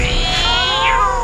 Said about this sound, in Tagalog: Yung mga pusang pagsapit ng alas 6, pumupunta na sa amin na kung makaiyak ang lakas na parang bata.